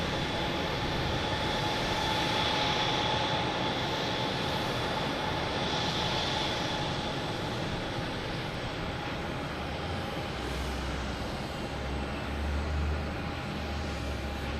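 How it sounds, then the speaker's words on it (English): An Airbus A220 arriving at Boston Logan from Reagan makes a steady, fairly distant jet whine and rumble at night that holds level throughout, with a faint tonal hum and no voices. "A220 coming in from Reagan."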